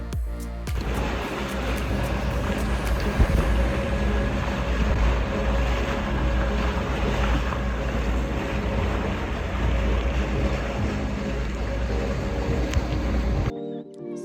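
A catamaran sails on the sea toward Coral Island off Phuket, Thailand, with a constant low engine drone and rushing water and wind noise, steady and close, cutting off abruptly near the end.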